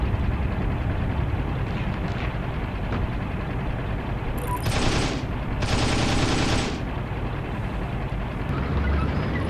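Two short bursts of automatic gunfire in the WWII shooter game Heroes & Generals, sharp and fairly loud above a constant low rumble of vehicles and battle.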